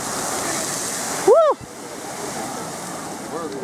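Strokkur geyser in Iceland erupting, a steady roaring rush of water and spray that cuts off abruptly partway through, with a person shouting an excited exclamation over it.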